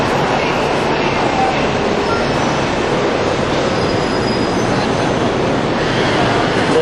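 Bangkok Skytrain rolling along its elevated track, a loud continuous rumble and rush of wheels with faint squealing tones throughout, steady and close with no voices on top.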